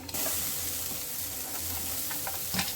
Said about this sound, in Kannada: ಉಳ್ಳಾಗಡ್ಡಿ ಟೇಸ್ಟ್ ಹಾಕೋದಂತ ಹೇಳಿ ಉಳ್ಳಾಗಡ್ಡಿ ಹಾಕೋತೀನಿ ಅದು ಚೆಂದಾಗಿ ಗೋಲ್ಡನ್ ಕಲರ್ ಬರ್ತಕ್ಕ ಸ್ವಲ್ಪ ಚೆಂದಾಗಿ ಫ್ರೈ ಮಾಡ್ಬೇಕು